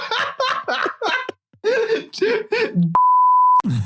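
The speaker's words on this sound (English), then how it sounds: "This is going to be the most beeped episode of podcasts of all time." A podcast censor bleep, one loud steady electronic tone lasting about half a second, cuts in right after a stretch of talking and laughter and is followed immediately by more voice.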